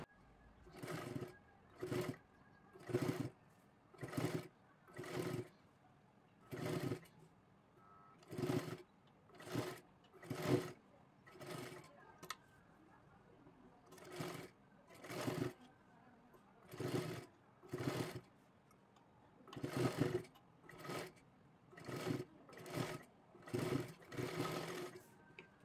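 Sewing machine stitching a lace-trimmed blouse neckline, running in repeated short bursts of whirring with brief pauses between, close and clear.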